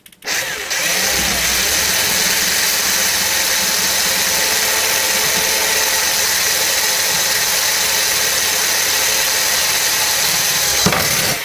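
A hammer drill runs loud and close for about ten seconds, a dense, steady, rattling whine during servicing of an Ekco vanity case radio from around 1960.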